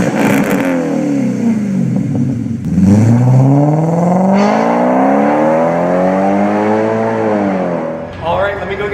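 A $725 Audi S8 with a 4.2 liter engine revs hard nearby, its pitch rising and sweeping over several seconds before easing off, loud and dominant, with speech likely under the engine.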